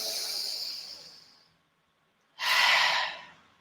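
A deep breath during a relaxation exercise in a creative writing workshop: a long, fading breathy exhale, a brief silence, then a loud, close inhale or sigh, with no talk.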